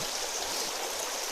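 Steady rushing of a flowing rocky stream on Mummassaar, a continuous broadband wash of water close by with no voices over it.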